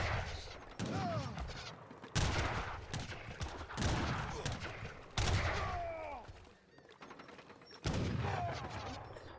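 Gunfire from units in an Age of Empires III match, loud bursts of volleys and rattling shots that come in repeated waves with short pauses between, mixed with other battle effects.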